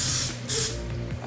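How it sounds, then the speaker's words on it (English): Two short, loud hissing bursts of cooking spray coat a baking pan at close range. "let's spray down our pan."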